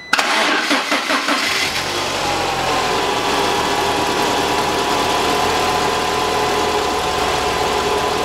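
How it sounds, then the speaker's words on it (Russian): A LADA Priora engine, just fitted with a new crankshaft pulley and alternator belt and running rough, cranks for about a second and a half, catches loudly and settles into a steady, shaky idle without speech. "Сейчас пробуем заводить, как она у нас будет себя вести."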